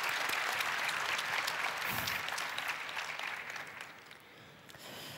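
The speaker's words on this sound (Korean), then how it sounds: "다시 한번 이분들의 용기에 존경을 표하는 의미에서 큰 박수를 보내고 싶습니다" Audience at a conference forum applauding, steady clapping heard from a distance that gradually fades over five seconds.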